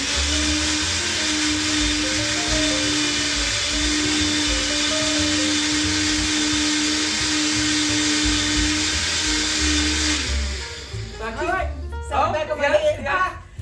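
A blender whirs loudly and steadily for about ten seconds, mixing red wine with Grand Marnier, simple syrup and frozen fruit, then cuts off as a person begins talking.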